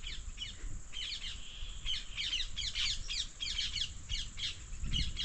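A parrot calls again and again in rasping, squawky bursts from fields beside a canal, the harsh cries coming in irregular clusters, fairly close and clear against a quiet background.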